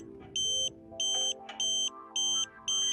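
Satellite dish pointing tool for a Tooway KA-SAT installation on a mid pole, emitting short repeated high-pitched electronic beeps, about five evenly spaced pulses, over faint background noise.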